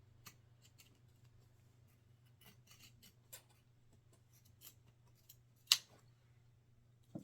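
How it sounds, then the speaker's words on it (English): Scissors trimming fabric while sewing a bag, with soft scattered snips and one sharper cut close by over a low steady hum in a quiet room. "I'm just going to use my scissors."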